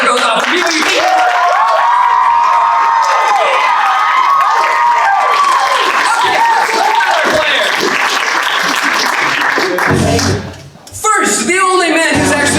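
Loud, sustained roar of a big crowd clapping and cheering after the final buzzer of a BYU game, with shouts rising over the din and a brief dip near the end before the cheering surges back.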